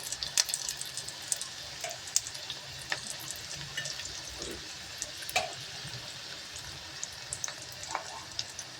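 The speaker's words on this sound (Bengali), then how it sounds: "এখন আমি এই বড়াগুলো ভাজছি" Bitter gourd leaf fritters coated in gram flour batter fry in hot oil, giving a steady close crackling sizzle dotted with sharp pops, with no talking.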